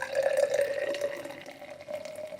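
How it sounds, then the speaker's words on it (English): Ordinary bitter, a low-carbonation cask-style homebrew, poured heavily into a glass to raise foam, a close continuous gurgling pour with no talk. "I'm gonna pour it heavily to get some foam."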